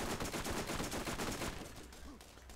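Rapid bursts of gunfire from a heavy-recoil weapon in the video game Borderlands, fairly quiet and rhythmic, the shots thinning out near the end.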